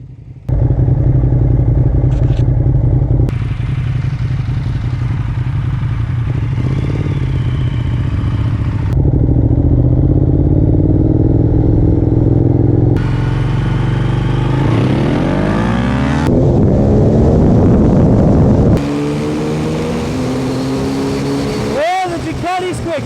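Ducati Diavel and Triumph Rocket 3R motorcycles launching in a rolling drag race, engines roaring loudly at full throttle and climbing through gears, with wind buffeting and a voice speaking near the end.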